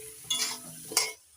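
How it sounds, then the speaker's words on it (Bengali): Potatoes seasoned with salt and turmeric frying in a pan over medium flame, a close sizzle with two brisk stirring scrapes of a spatula, the second louder. "এবার নাড়াচাড়া করে হালকা লালচে করে ভেজে নেব।"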